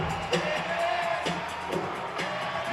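Indoor soccer crowd at an arena match between the St Louis Ambush and Kansas City Comets, a steady wash of cheering and whooping with a few louder shouts standing out.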